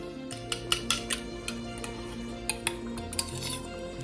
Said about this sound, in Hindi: जो मैंने दही था इसको मैं फेंट के इसमें ऐड कर दूंगी